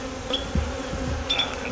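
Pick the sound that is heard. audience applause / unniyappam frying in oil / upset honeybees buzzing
upset honeybees buzzing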